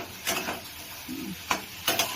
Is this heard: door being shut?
no